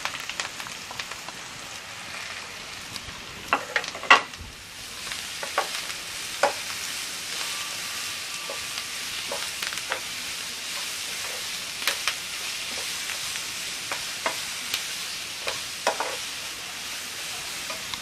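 Grated carrot frying with curry leaves in a pan gives a steady, dense sizzle that runs the whole time, broken by occasional clinks and scrapes of stirring, with no one talking.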